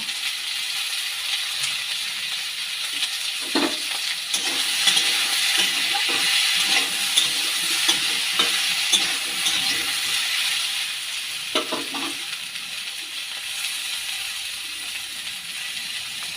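Potatoes and beans with green chillies fry in a pan, a moderate steady sizzle with occasional scraping and rattling stirs, close by, lasting throughout without voices.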